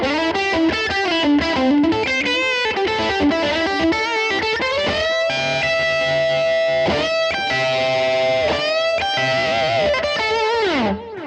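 Electric guitar played through a Dhyana Drive distortion model on a Line 6 Helix set to 18 volts, giving a loud, compressed, sustained overdriven tone with chords and held notes ringing throughout, no talking.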